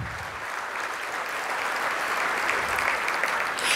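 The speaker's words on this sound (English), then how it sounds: "give them a round of applause." Sustained applause from an audience, steady and fairly loud throughout, with no voices over it.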